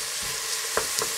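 Clarified butter frying in a cooking pot gives a soft, steady sizzle with a couple of brief stirring clicks near the end, fairly quiet and without talk.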